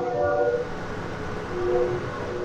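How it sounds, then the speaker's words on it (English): A train horn from a passing train sounds at a distance, with steady tonal blasts over a low rumble, loud and continuous for a couple of seconds. "Somebody blowing the train horn."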